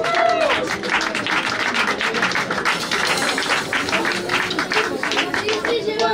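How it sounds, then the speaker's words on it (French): An audience applauds a performer at a Paris music showcase, a dense, steady spread of many hands clapping throughout, with some voices mixed in. "On applaudit Rosène."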